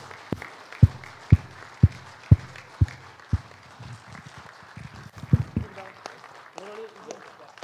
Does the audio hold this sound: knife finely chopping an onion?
no